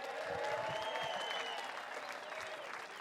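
Crowd at the 2019 Vans BMX Pro Cup World Championships awards applauds steadily for the finalists, a sustained wash of clapping at a distance with faint voices mixed in.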